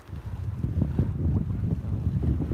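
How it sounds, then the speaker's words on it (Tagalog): Gusty wind buffets the microphone with a steady low rumble, rising and falling in strength, with no voices present. "Mahangin ngayon."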